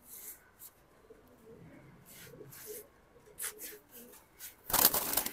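Big patti pigeons at a pigeon sale give soft, low intermittent coos amid scattered rustling and wing shuffling, closing with a loud burst of flapping.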